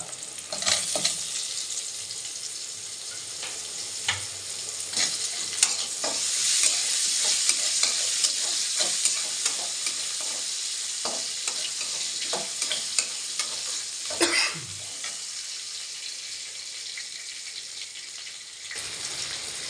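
Cut potatoes frying in a pan of hot oil, a close, continuous sizzle with intermittent stirring scrapes and clatters, no voices.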